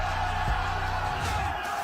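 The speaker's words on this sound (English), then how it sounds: "We have a raucous crowd on hand here in Mesa, Arizona" A raucous crowd of over 15,000 baseball fans roars at the Banana Ball World Tour opening night in Mesa, Arizona. The dense cheering and whooping fills the air continuously, with a heavy thump near the start.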